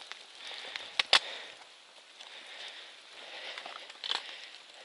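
Rain pattering on a wet mountain trail with steps on Kinsman Mountain in whiteout conditions, a soft steady hiss broken by a few close crackling drops and rustles.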